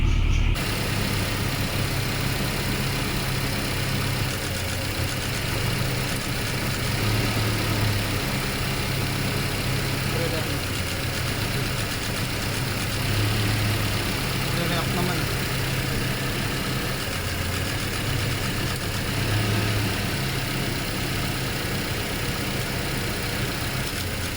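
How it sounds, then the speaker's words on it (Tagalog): A gasoline 2TR engine in a Toyota Fortuner idles with a misfire, giving a steady, close, continuous rumble with a faint irregular lumpiness through the run. "Toyota Fortuner na gas 2TR may misfire ano misfire palyado"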